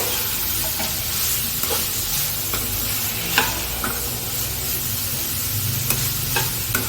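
Sliced bitter gourd fries in oil with a dense, steady sizzle, broken by occasional soft clicks of stirring.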